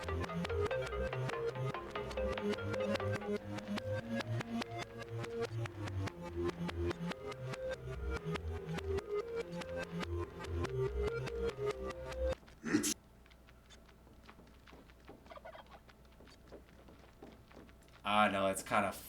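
A musical passage treated with effects and played in reverse, running as dense, steady music before dropping to a sparse, quieter stretch and a brief swell at the end.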